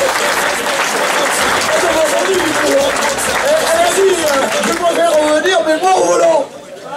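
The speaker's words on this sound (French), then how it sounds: "Vous pouvez l'applaudir." A rally podium crowd applauds and chatters for an SSV driver, the clapping dense and continuous with loud cheering voices layered on top, then dropping off abruptly near the end.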